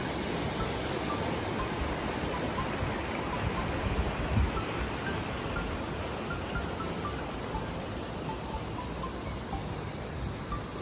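A forest stream flows down into a pond, giving a steady, dense wash of running water that holds an even level throughout, with no voices.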